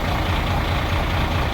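An Isuzu truck engine fitted with a large internal muffler runs steadily at close range, giving a continuous low, rumbling drone with no break and no voices.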